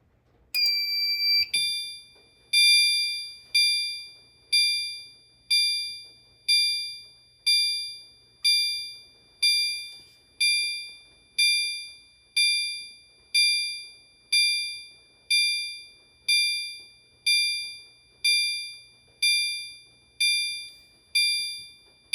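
A System Sensor L-series fire alarm chime strobe, set to low volume, opens with a short steady tone and then sounds a clean repeating chime about once a second, evenly spaced and unaccompanied.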